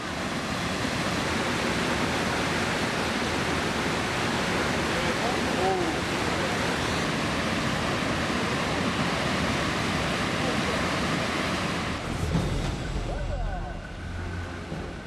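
A waterfall on an Alaskan river where sockeye salmon leap, heard as a powerful continuous roar of rushing water that stays loud and even throughout before thinning briefly near the end.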